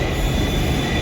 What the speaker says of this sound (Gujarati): મેટ્રો આવે છે ગાઈસ, જોઈ લો બધા.